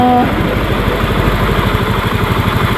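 A Honda Beat eSP scooter engine idles in a repair workshop, a steady, close, rhythmic chugging pulse with a brief tone at the start.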